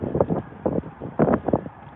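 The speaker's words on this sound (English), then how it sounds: "it's a bit windy" Wind buffets a microphone outdoors beside a car, arriving as several bursts of low, rumbling noise that rise and fade over two seconds.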